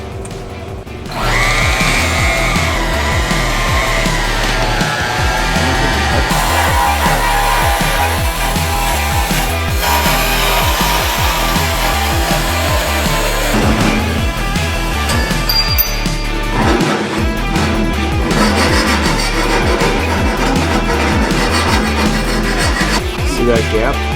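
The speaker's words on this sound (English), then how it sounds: "as I'm cutting it with the bandsaw, I'll just follow that line" A bandsaw cuts through metal for welding a fermenter, producing a sustained loud grinding, whining drone with shifting pitch that runs steadily through a workshop while someone talks over it.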